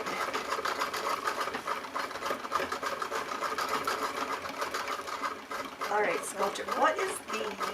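A sewing machine runs steadily throughout, a continuous mechanical hum with a voice speaking briefly over it near the end.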